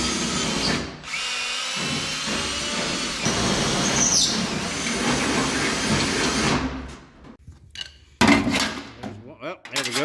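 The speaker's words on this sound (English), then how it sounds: "So I'm gonna drill these pop rivets back out" A power drill whines in repeated bursts, drilling out metal pop rivets with clinking rattles, then stops and starts again near the end.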